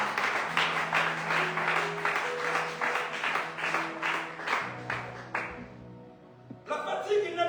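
A church congregation claps steadily in rhythm over held organ or keyboard chords, the applause fading out before a brief return of noise at the end.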